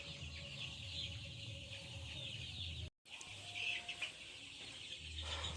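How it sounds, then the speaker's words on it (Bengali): Chicks clucking softly in a group as they feed on a farm, a low steady murmur of fowl sounds with a brief cut partway. "মুরগি খাবার দেওয়া হয়ে গেছে, মুরগি খাইতেছে এখন বাচ্চাগুলা"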